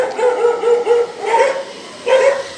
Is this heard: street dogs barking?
yes